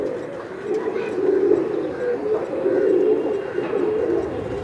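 Soft, repeated cooing from pigeons, a low rolling murmur that swells and fades in waves, fairly close, with no other sounds standing out.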